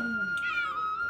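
A cat gives one drawn-out meow close by in a Uttarakhand village setting, heard alone over a soft background hum.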